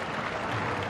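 A large crowd applauds at a day-night cricket one-day international at Adelaide Oval, with steady dense clapping and a low crowd roar filling the whole moment.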